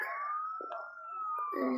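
Fire truck siren in a video game, a faint wailing tone that rises and holds, with short clicks and a voice briefly speaking near the end.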